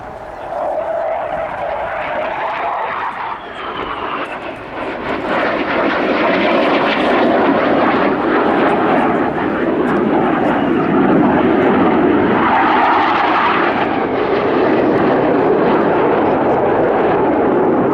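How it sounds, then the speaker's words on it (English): Fighter jet manoeuvring hard at the RIAT air show, a loud roaring engine that swells and stays intense throughout, broad and rumbling with a faint passing whine early on. "Toby, Ninja 2, will manoeuvre his aircraft to its limit"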